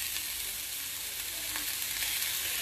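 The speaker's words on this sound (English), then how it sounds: "I'm just going to add in my orange and let that start cooking down at the same time." Orange pieces and cumin sizzling in a hot pan, a steady, even frying hiss that runs throughout without talk.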